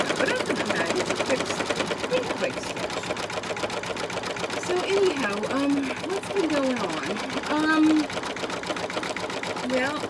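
A home embroidery sewing machine stitches a bunny design on an Easter table runner, its needle tapping in a fast, steady mechanical rhythm throughout while a person talks over it.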